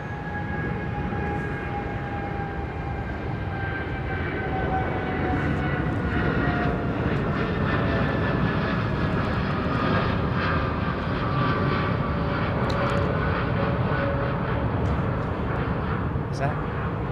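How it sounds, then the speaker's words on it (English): An El Al Dreamliner airliner lands at London Heathrow with a continuous loud jet roar and whine that slowly falls in pitch, heard alongside talking. "Beverly George, this is El Al's Dreamliner landing"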